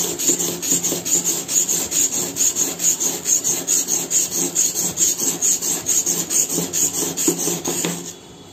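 A hand plane blade is rubbed back and forth on a sharpening stone, making a steady, rhythmic gritty rasp of about two strokes per second, loud and close, that continues for around eight seconds before stopping.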